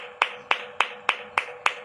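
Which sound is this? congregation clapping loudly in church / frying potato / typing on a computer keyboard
congregation clapping loudly in church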